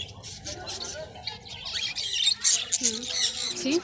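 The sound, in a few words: birds squawking at pet market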